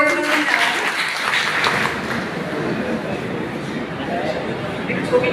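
Applause from attendees at a public dealer-selection meeting in Lalmonirhat, Bangladesh, as a dense crackle of clapping that holds for several seconds and then thins into general room noise.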